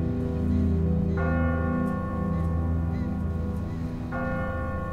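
In The Walking Dead game, a church bell in a bell tower tolls twice, each stroke ringing out loudly and sustaining over a dense low rumbling background.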